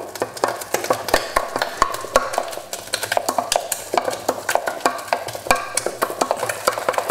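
Choux pastry dough for chocolate profiteroles whisked vigorously in a pan off the heat, a steady rapid rhythm of close scraping and tapping strokes that carries on throughout, with no talking.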